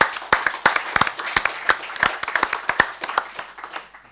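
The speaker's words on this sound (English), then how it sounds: "And a big round of applause to Rebecca for all of her sketching in the back there." A room full of people claps at a UX careers panel event, a close burst of many overlapping hand claps that holds steady and then thins out toward the end.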